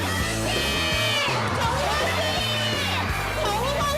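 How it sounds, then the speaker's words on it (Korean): A crowd of citizens at a Korean celebrity red-carpet event cheers and shouts loudly and continuously, with shrill whoops over a steady roar and music underneath. "시민들에게 가장 큰 환호성을 이끌어낸 정우성 씨"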